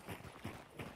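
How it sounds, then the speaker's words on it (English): A horse in the distance in the Hunt: Showdown video game, heard as three soft, evenly spaced hoof-like thuds over a faint background. "Horse, I heard one."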